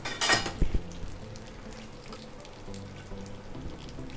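A quick burst of loud sizzling as dal tempering for rasam hits hot oil in a kadai, then a softer steady crackle of frying continues.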